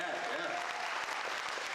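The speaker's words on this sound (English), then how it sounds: "clap for that" Audience at a high school graduation ceremony applauding the graduates, a dense wash of clapping that holds steady for the whole short span, with a voice speaking over it.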